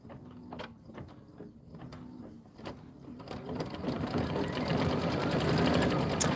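A computerized embroidery machine stitches a tiny heart design in the hoop with a pre-wound bobbin, giving a rapid, steady mechanical needle chatter that grows louder and denser toward the end, with no talking.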